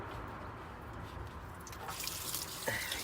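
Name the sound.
rusty water draining out of a car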